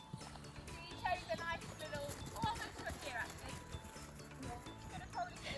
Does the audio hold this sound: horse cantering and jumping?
yes